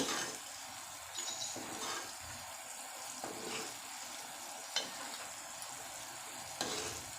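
Tamarind mixture for pulihora cooking in oil, a steady close sizzle and fry with intermittent stirring scrapes and light clinks, no voices.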